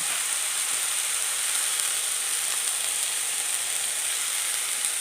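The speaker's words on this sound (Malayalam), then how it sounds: "നന്നായിട്ട് ഒന്ന് ഇളക്കി കൂട്ടി കൊടുക്കുക" A spinach and jackfruit seed stir-fry cooks in a pan with a constant, even, close sizzle and hiss that continues without pause and with no voices.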